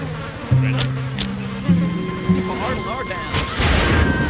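Bees from a beehive in the video game Ghost Master give a steady insect buzz with sharp game effects over it and other game sounds.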